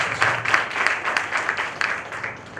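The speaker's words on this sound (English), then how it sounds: "let us clap for those who have worked hard to make it successful" A conference hall audience claps in dense, continuous applause, fairly loud and even, with many hands overlapping and no clear speech on top.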